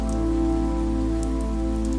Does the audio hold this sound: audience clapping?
no